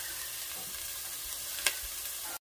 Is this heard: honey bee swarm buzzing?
no